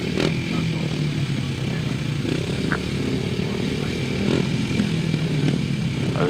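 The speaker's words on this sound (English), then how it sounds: "the revs do not need to be built up until the green light comes on" Grasstrack racing motorcycles revving near the start line, a continuous buzzing engine roar with a few sharp rev spikes, fairly close, under a commentator talking.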